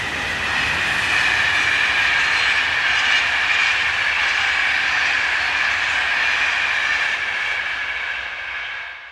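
French locomotive 26043 heading north on the Paris–Orléans main line, a loud, sustained roar and rumble of the passing train that holds steady and drops away only at the very end.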